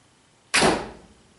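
A single arrow loosed from a Ben Pearson Colt Model 960 bow at a 3D archery range, a sharp close snap and thud that decays quickly after a moment of quiet.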